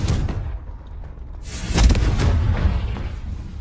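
A Confringo fire-blast spell detonating in Hogwarts Legacy, a sudden heavy boom with crackling burst that swells after a short lull and rolls out as a rumbling tail, amid ongoing combat noise.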